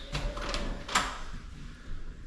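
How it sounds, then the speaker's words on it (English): An elevator door slides open at a Florida fishing trip stop, a short rattling whoosh with a sharper clack near the middle, fairly close and alone without talk. "Elevator door."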